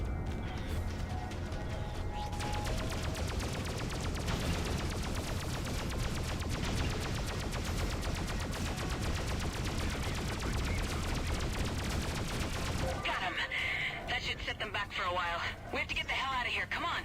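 Ship weapons fire in the space combat game Freelancer, a dense continuous barrage of blasts and laser shots layered with game music, with someone talking over it throughout.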